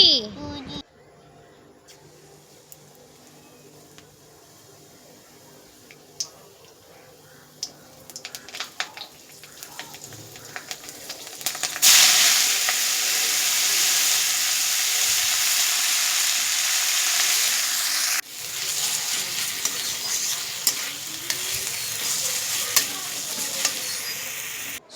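Leafy greens (shak) fry in a pan with loud, continuous sizzling and stirring that grows stronger halfway through, while a child and an adult talk over it.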